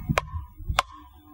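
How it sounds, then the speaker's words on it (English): A replica copper axe chops wood in two sharp, bright impacts about half a second apart, each a crisp broadband crack with a short ringing tail, fairly close and clear with no talk over it. "how well the copper axe worked."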